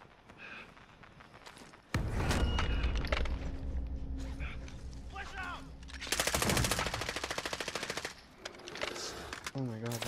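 Automatic gunfire in the video game Call of Duty Modern Warfare, with loud sustained rapid bursts, several separate shots and footsteps amid the game's effects, plus some low talk.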